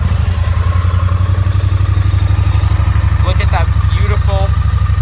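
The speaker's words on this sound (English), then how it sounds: "classic Triumph twin sound" A 2018 Triumph Street Twin parallel-twin engine idles steadily just after a cold start, a loud, close, even low thrum with a rapid regular pulse, while someone speaks briefly over it.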